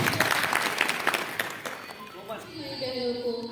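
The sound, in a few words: audience applauding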